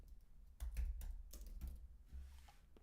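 Fingers type on a computer keyboard nearby, giving a short, faint run of uneven key clicks, with no talking.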